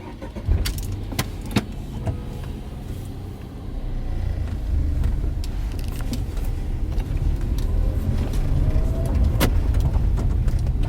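A Tata Altroz rolls along a rough road at about 30 km/h with a low, steady rumble, punctuated by sharp knocks and rattles from bumps in the surface.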